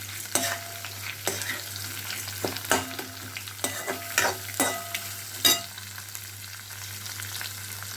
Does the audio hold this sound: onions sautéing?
yes